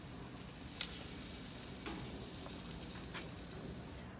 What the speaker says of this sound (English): Look at that, cooking the sausage